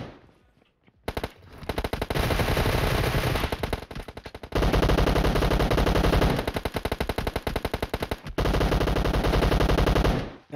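Rapid automatic gunfire in the video game PUBG Mobile rattles in long, loud bursts of sharp, evenly spaced shots, broken by short pauses.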